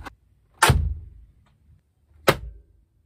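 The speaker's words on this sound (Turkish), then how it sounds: "plastik taburelerle biraz daha patlama efekti yapalım" Two heavy, booming thumps of plastic stools being struck, the first longer and resonant, the second sharper, separated by quiet, close and loud.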